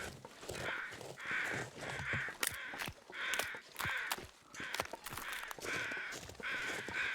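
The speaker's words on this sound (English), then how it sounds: "Yeah, these crows, that's probably what you heard." Crows caw in a video game, repeated harsh calls in steady bursts with short gaps, fairly near and alone with no talk.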